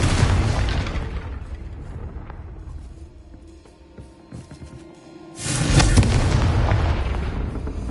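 Blasting spell explosion in a Harry Potter video game: a loud, heavy boom that rumbles and fades, then a second powerful blast bursts in near the end and roars on to the close, with no talk.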